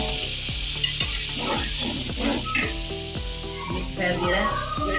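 Spiced tomato paste hitting cooked meat (mutton) in a pot for duck pulao, with a steady loud sizzle and hiss that runs throughout, broken by repeated stirring scrapes and clatters close by.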